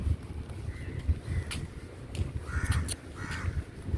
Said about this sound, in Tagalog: Ang daming uwak dito, grabe.